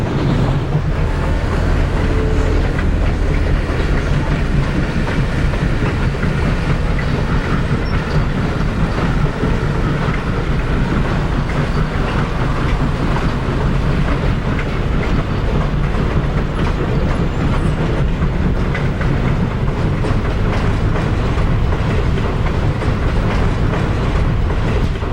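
Vintage steam train number 4501 running with a string of coaches at Belvore, Virginia, a dense continuous roar of wheels and clattering cars sustained loud and close throughout, with no voices.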